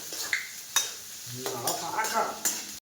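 Cumin and mustard seeds hit hot oil in a pan for North Karnataka–style cooking, giving a steady close sizzle with a few sharp crackles and pops.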